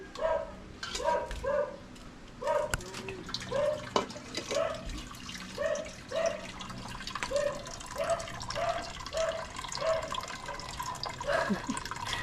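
A tap drips water steadily into a container, each drop a distinct, evenly spaced plink repeating about twice a second at close range, with faint background noise and no talking.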